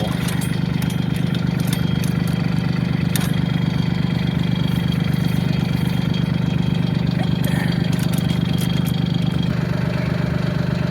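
Tractor engine idling with a rake hitched behind it, a steady close mechanical hum that runs unchanged throughout, with faint clicks and knocks over it.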